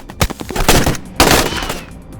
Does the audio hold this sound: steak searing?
no